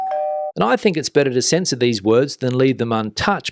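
A doorbell ding-dong chime, dropped in as a sound effect to cover a swear word, rings briefly and clearly at the start before someone talks over the rest.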